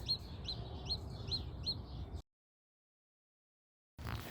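Baby chicks under a heat lamp chirp in a rapid, repeating series of high peeps over a soft background rumble, then the sound cuts to silence before briefly resuming.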